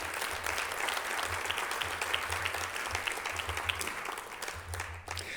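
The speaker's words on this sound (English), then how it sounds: "they deserve a round of applause for how much they've supported us" Applause from a lecture audience at a public interest event fills the room in a steady wash of clapping, with a low rhythmic hum pulsing underneath and a brief dip near the end.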